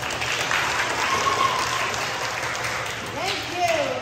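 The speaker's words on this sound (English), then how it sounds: "Can I get another round of applause?" An audience at an elementary school talent show applauds steadily and fairly loudly, dense clapping sustained throughout with a faint voice rising near the end.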